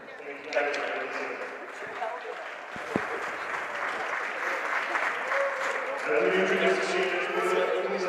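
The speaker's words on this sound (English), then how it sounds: "Nice round of applause for our senior families." Applause from spectators at a boys' high school hockey game honoring senior families, sustained clapping that swells in the last few seconds, with a voice over a PA at the start.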